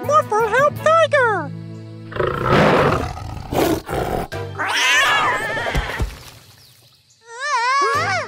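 In a cartoon, a tiger lets out several loud growling roars with cartoonish warbling animal calls before and after, close and busy, over and between bursts of talk.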